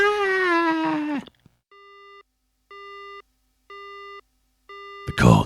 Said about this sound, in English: The call disconnects.